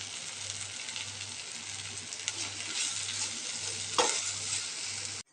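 Red aval upma (flattened red rice) being stirred in a pan, a steady broadband sizzle with a regular scraping rhythm of the spatula and one sharper clink near the end, close and continuous.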